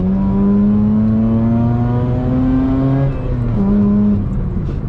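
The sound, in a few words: Mazda RX-8 engine accelerating with cheap eBay exhaust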